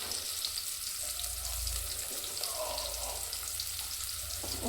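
Chicken with turmeric and salt fries steadily in a pan, giving a continuous close sizzle with a soft bubbling texture throughout.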